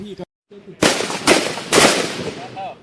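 Bursts of gunfire at a police tactical handgun and carbine shooting training, three loud close shots in quick succession, preceded by a short voice and followed by fading echo and faint talk.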